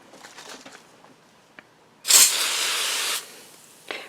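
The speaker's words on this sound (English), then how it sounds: "So I spray the cardstock in a spray box with the spray starch." Spray starch misted from an aerosol can onto metallic cardstock inside a spray box: one sustained, loud hiss lasting about a second, with faint handling rustles before it and a short final puff.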